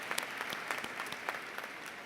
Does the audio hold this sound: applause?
yes